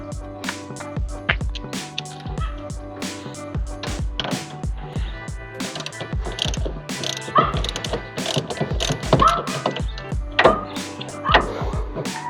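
Rapid ratcheting clicks from a wrench loosening the battery terminal nuts on a Nissan 1400, a dense run of sharp metallic ticks in quick bursts, close and fairly loud throughout.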